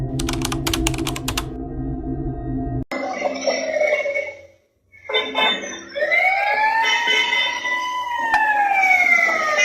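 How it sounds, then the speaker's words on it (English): Ambulance siren blaring as it speeds through an intersection in Vietnam, heard after a burst of rapid clicking, rising and falling loudly with traffic noise and a brief drop to near silence. "An ambulance was blaring its siren and speeding through an intersection"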